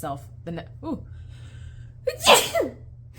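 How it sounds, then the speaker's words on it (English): A single loud sneeze bursts out after some quiet breathy vocal sounds, close to the listener. "confirmation sneeze."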